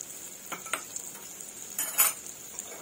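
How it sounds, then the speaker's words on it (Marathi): A spice tempering for raw mango methamba is sautéed in a pan. A soft sizzle sits under a few brief spatula scrapes and stirs, fairly faint, with no voices. "इथे छान असं परतून घ्यायचं 2-3 मिनिटं आपण।"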